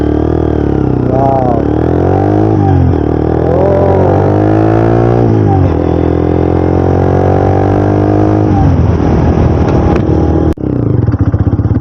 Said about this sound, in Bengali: ও এক্সজস্টের সাউন্ড,